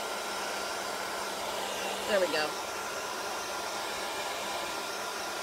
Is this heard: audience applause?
no